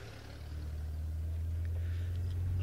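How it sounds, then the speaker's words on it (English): A vehicle rolls past close by on a safari drive, a steady low engine rumble building slightly in loudness over a few seconds with faint outdoor background noise. "We'll be hearing a car just passing next to us."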